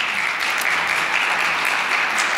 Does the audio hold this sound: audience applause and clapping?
yes